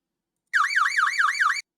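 A rapid yelp siren tone from a vehicle in the game Stormworks, a fast warbling wail cycling about six times in a second, loud and alone, starting and stopping abruptly.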